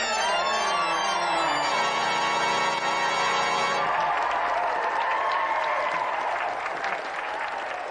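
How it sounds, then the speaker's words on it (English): Studio audience applause on a TV game show, a sustained wash of clapping from a crowd, loud and steady over a musical tone that fades partway through. "But round of applause for Tony."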